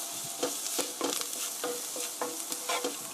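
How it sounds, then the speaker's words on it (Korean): Flour is stir-fried in a pan for a broccoli spaghetti sauce, with a steady close sizzle broken by repeated scraping stir strokes at an uneven rhythm and no talking. "밀가루가 노릇노릇하게 될 때까지 볶아주세요"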